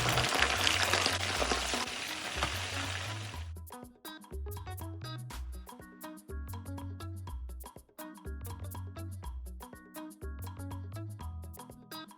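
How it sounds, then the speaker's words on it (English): Herrings and then shrimps frying in a pan: a dense sizzle at first, giving way to sparse crackles and pops over a recurring low background hum, with no voices. "I'll go ahead and fry my herrings and finally my shrimps"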